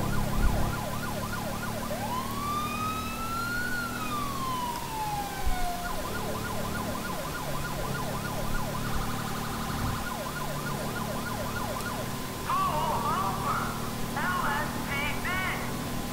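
A police siren in the video game GTA 5 wails and sweeps in the distance behind steady engine rumble, with rapid warbling siren tones joining later and talking over the top.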